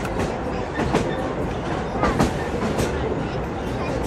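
A narrow-gauge railway train runs past on the Ełk to Sypitki line, a loud continuous rumble and rattle of wheels with faint rhythmic clacking, close by and filling the whole clip.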